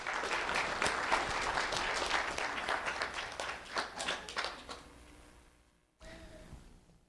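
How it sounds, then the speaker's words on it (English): Audience applause for Lyndon Cadet, a first grader, at a Lee County Sheriff's Office recognition event, a steady roomful of clapping that thins and fades out toward the end, with a brief murmur of room noise after. "Round of applause for Lyndon Cadet."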